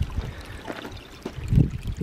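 Spring water trickles and pours into a sediment filter bucket for a creek-fed catchment, a soft uneven gurgling flow that swells to a fuller splash toward the end.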